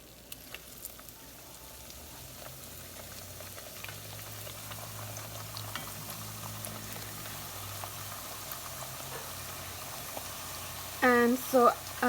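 Tortillas frying in hot oil in a pan, a steady soft sizzle and bubbling that rises slowly, faint and continuous, with a brief voice near the end.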